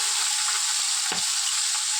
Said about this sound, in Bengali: মাছগুলো দিয়ে দিচ্ছি, ভাজা হচ্ছে